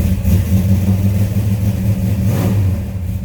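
A 1967 Plymouth Belvedere GTX engine runs loud and near after starting, a deep, steady rumble with a slight rise in revs as it warms up, and no voices over it.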